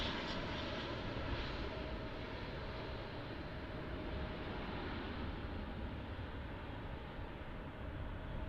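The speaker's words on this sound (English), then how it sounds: "There's Spirit Airlines A320 inbound from Las Vegas." A Spirit Airlines Airbus A320 jet inbound at DFW Airport at night produces a steady, distant engine roar with a faint whine that holds evenly throughout, with no voices.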